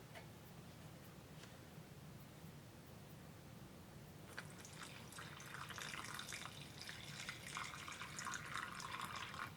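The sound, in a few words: water poured into rock tumbler barrel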